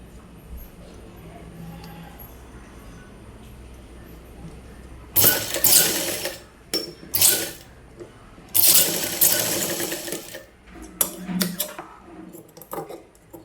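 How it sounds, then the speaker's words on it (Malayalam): Sewing machine stitching the curved edge of a half collar top, its motor whirring in several loud bursts of a second or two, separated by short pauses, after a quiet stretch. "എന്നിട്ട് ഈ റൗണ്ട് ഷേപ്പ് ഉണ്ടല്ലോ, റൗണ്ട് ഷേപ്പിന് കണക്കാക്കിയിട്ട് സ്റ്റിച്ച് ചെയ്തെടുക്കുക."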